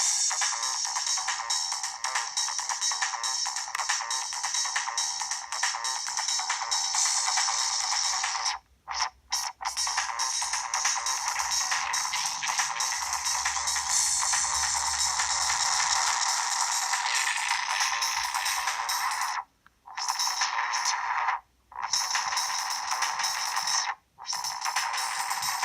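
A rhythm pattern fed into the auxiliary input of a Korg Monotron synth comes out as a steady, bright buzzing drone with fluttering texture, broken by a few short dropouts near the end.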